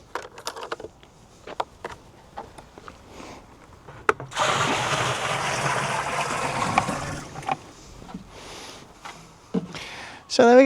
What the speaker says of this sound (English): I'm going to have to simulate rain by filling the butt with a bit of water